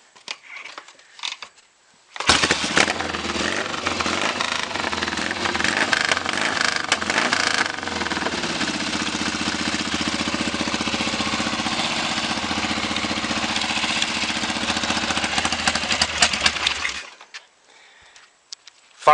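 A 1974 Triumph Bonneville T140V 750 motorcycle cranks with a few quiet clicks, fires up into a loud, steady idle that holds for about fifteen seconds, then cuts off abruptly.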